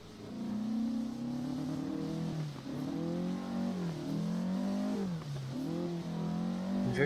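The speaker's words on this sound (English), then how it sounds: "I'm very timid on the throttle because I'm getting nothing but wheel spin." Rally car in Assetto Corsa Rally spinning its wheels in second gear on a Swedish stage, the engine droning loudly with pitch that rises and falls as the revs swing under throttle, continuous and close.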